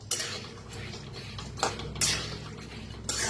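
Moth beans dry roasting in a pan, with stirring utensil scrapes and light metallic clinks against the pan over a steady low background hum, a few sharper knocks standing out, close by.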